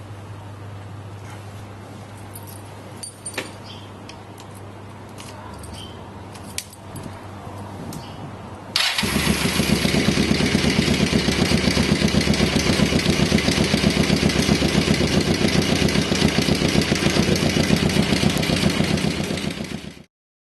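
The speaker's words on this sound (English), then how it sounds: "you run the engine at idle till it's warm" Quiet clinks and light rattling, then a motorcycle engine starts and settles into a steady, close, throbbing idle that runs to the end, warming up.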